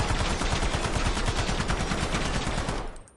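Sustained automatic gunfire from a weapon in Black Ops 7 multiplayer on PS5, a loud, dense stream of rapid shots that runs for about three seconds and then cuts off.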